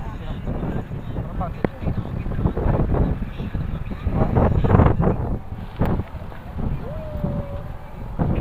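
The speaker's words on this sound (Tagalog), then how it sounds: "Ang hangin sobra." Strong seaside wind at Dolomite Beach by MOA Seaside buffets the microphone in loud, rumbling gusts that swell and ease throughout, with faint voices murmuring underneath.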